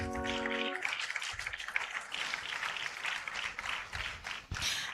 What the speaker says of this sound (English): The final round of applause for him again.